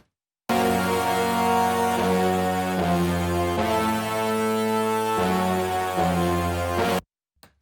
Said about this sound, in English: As well as this low tuba.